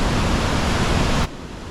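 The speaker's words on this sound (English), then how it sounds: "That's a good chunk of snow melt coming down that waterfall." Steady, loud roar of St. Mary's Falls in Glacier National Park running with snow melt, a broad continuous wash of noise that drops sharply in level near the end.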